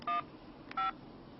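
Two short keypad tones sound as a number is typed on a Samsung Trance phone, evenly spaced beeps, close and clear over a quiet background.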